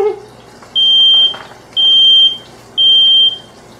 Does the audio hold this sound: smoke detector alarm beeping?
yes